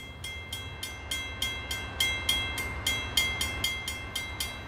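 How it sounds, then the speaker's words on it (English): An Amtrak passenger train rolls along the rails with a steady run of sharp, evenly spaced clicks over a low rumble, close and unbroken for several seconds. "These are the familiar sights and sounds of train travel"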